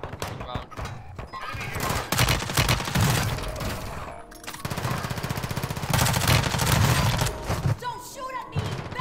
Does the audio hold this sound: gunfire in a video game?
yes